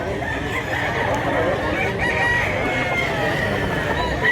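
A three-year-old Lambuhon x Kanawayon gamecock crows in Mantalungon, Cebu, a short, thin call rising out of a dense, noisy outdoor din.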